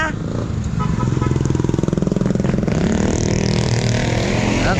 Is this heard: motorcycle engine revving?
yes